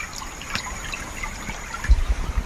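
A small stream of water trickles and splashes over flat red rock outdoors, a soft steady flow with a few louder gurgles near the end.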